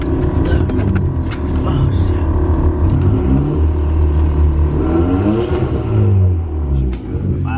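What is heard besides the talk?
2018 Hyundai Elantra Sport turbo engine revving, catless downpipe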